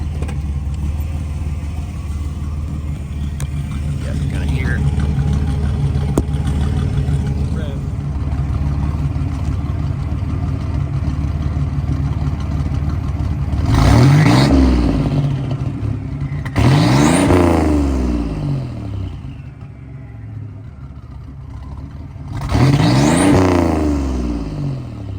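A 1987 Buick Regal Limited turbo engine idles with a low rumble, then revs sharply three times, each rising whine falling back to idle.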